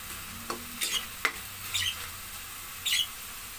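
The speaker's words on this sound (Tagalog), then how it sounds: "gisa muna natin ang mga sangkap" Ingredients for ginataang monggo being sautéed in a pan: a few sharp scraping stirs and clinks over a faint, quiet sizzle, spaced irregularly with pauses between.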